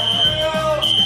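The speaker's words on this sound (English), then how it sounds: "Who pulled the fire alarm?" A high school fire alarm sounds a steady piercing electronic tone, loud and close, with a brief break, over crowd chatter and voices.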